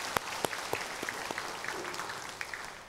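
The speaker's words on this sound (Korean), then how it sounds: "하나님께 영광의 박수 올려드리겠습니다." Congregation applause at a Wednesday morning church worship service: a broad, steady wash of many hands clapping, with a few sharper, louder claps standing out at irregular moments, heard alone without speech.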